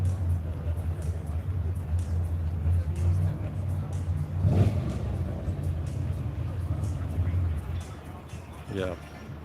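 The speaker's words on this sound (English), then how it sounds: "There's a car driving in, I think it's a Bizzarini." A Bizzarini car rolling in at the London Concours, its engine a low steady rumble that swells briefly at mid-point, mixed with crowd chatter and nearby talk at an outdoor show.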